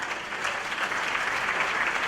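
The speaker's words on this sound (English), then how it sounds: "Give her a round of applause for that" Steady applause from a dinner audience at an NAACP Freedom Fund gala, honoring a student on the honor roll, a broad even wash of many clapping hands filling the room without pause.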